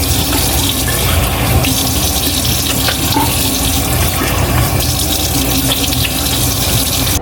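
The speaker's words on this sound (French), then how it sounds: "Donc là, maintenant, je vais le rincer mon visage." Tap water runs steadily from a faucet into a sink while a face is rinsed, a loud, continuous splashing rush that fills the whole stretch with no talking.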